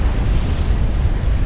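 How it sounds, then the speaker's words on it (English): Explosion in the real-time strategy game Supreme Commander: Forged Alliance: a loud, dense, continuous low roar and rumble that fills the whole moment without pause, with no voices. "That explosion actually killed a lot of the boys there"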